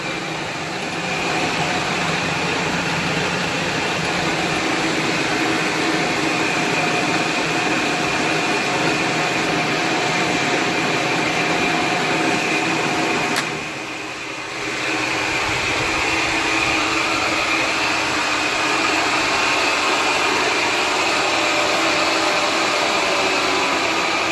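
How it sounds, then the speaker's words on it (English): A lathe runs on a rotary phase converter, a loud steady motor whine and hum with a brief dip in level partway through, continuing alone without voices. "Lathe is on"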